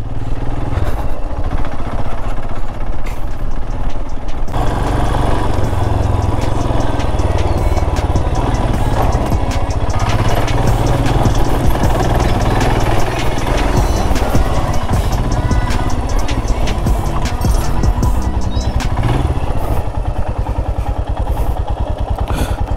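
A motorcycle engine runs close by for the whole stretch, a loud low rumble with rattling and clatter over it and a brief change in tone early on.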